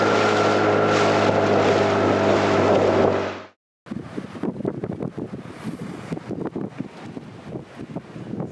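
Strong wind roaring over a sailboat's microphone near the Caribbean islands, loud and continuous, then after a brief drop comes gusty buffeting with rustling and knocking sounds.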